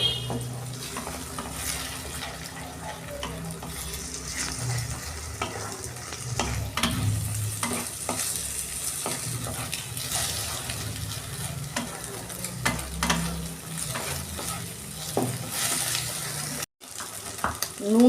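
Egg being stirred into spices in a frying pan for Bengali egg tadka, a low simmering sizzle under steady scraping and knocking of a spoon, with a brief cut near the end.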